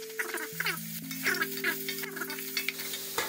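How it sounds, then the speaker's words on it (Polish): Carrot tossed into already fried onion in a pot, with oil sizzling and a spoon stirring in repeated scraping strokes, close and fairly quiet, over a steady background hum. "Do podsmażonej cebuli rzucamy marchewkę."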